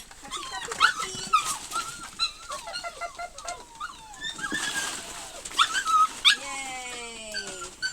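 Seven-week-old puppies whimper and yip in a busy chorus of high, squeaky cries and short yelps, close and continuous, with faint bird-like chirps mixed in.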